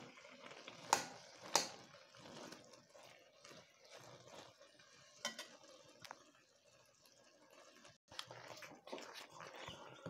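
Boiled greens stalks and lentils being mashed with a wooden masher, heard as a run of soft, wet, irregular squelching knocks with a few sharper thumps, fairly quiet and close, with no talk.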